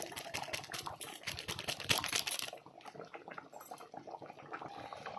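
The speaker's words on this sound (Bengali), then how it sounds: "দেখো ঝোল ফুটে ঘন হয়ে এসেছে" Potato curry gravy (aloo dum) bubbling as it thickens gives rapid popping and ticking bubbles, busier and louder at first, then settling into a softer, sparser simmer, with no voices.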